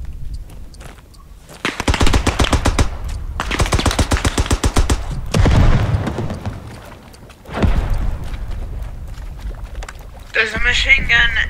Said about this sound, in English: There's a machine gun aimed at the cap or the HQ for capturing, I think.